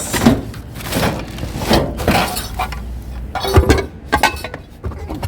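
Glass pieces from lights clink and crunch during street scrapping for metal, with irregular sharp rattles and scraping handling noises at close range and no speech.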